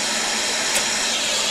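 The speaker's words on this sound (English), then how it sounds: "Let me use the hot air." A hot air rework tool blowing during a PS5 repair, giving off a steady, loud, broadband hiss of rushing air close by with no talking.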